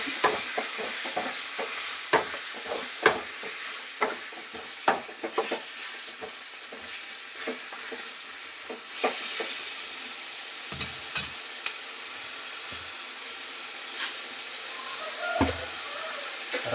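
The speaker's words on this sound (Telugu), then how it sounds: "బాగా కలుపుకోవాలండి." Chicken roast pieces sizzle in a pan while being stirred, with a steady frying hiss and frequent sharp scraping taps of the spoon against the metal, close by and without talk.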